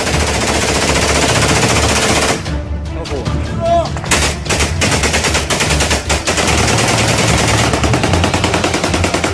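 Heavy machine gun fire from fighting between Armenia and Azerbaijan, loud sustained automatic bursts with a brief lull partway through, then dense continuous firing resumes.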